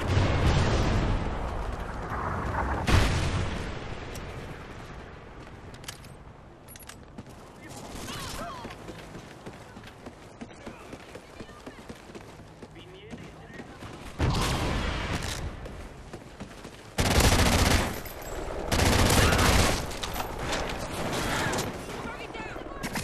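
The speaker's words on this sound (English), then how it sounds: "Friendly Trinity rockets sounded inbound." Trinity rocket barrage exploding in the Ghost Recon DLC video game in a favela, with a series of loud booming blasts and rumbling detonations in bursts, separated by quieter stretches of lingering roar.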